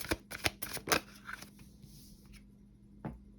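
Tarot cards shuffled by hand in a quick burst of crisp riffling flutters, then a pause before one last soft card snap, close and fairly quiet with no talking.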